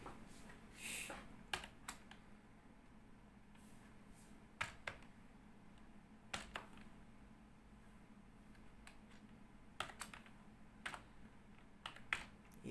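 Typing on a computer keyboard produces scattered, sharp key clicks in irregular bursts, quiet and close, with longer pauses between groups of taps and no talking.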